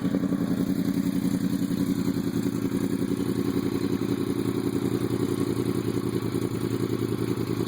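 A 2012 Yamaha R1 in Raven colour fitted with a Two Brothers slip-on exhaust idles close by, a loud, even, throbbing rumble that holds steady throughout without throttle changes.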